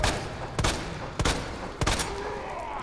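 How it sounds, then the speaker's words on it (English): Handgun shots fired at a zombie in the Resident Evil 2 Remake video game: four sharp, loud reports spaced about half a second apart over a steady low game ambience. "I'm gonna shoot the zombie's ass"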